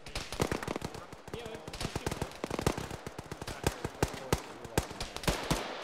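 Gunfire in a ShackTac military video game: rapid, irregular volleys of nearby rifle and machine-gun shots, sharp cracks following one another closely, with bursts from several weapons overlapping and people talking underneath.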